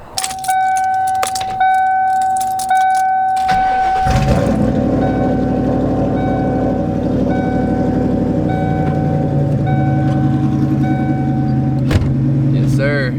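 Keys jingle and a warning chime dings before a car engine cranks and roars to life, then idles and revs loudly with a deep rumble.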